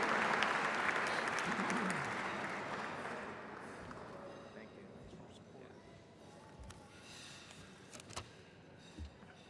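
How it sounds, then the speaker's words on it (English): An audience applauds at an awards presentation honoring Jack Connolly, a broad wash of clapping that swells at the start and gradually fades out, leaving a few faint scattered claps. "So a round of applause, please, for Jack Connolly"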